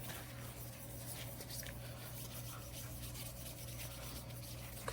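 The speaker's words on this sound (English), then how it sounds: "you're gonna take that steel wool and spread her on there and scrub it in" Steel wool scrubbing over a gun barrel while building a Traditions Blunderbuss kit, a continuous soft rubbing rasp at a steady level under a constant low hum, close to the mic, with no voices.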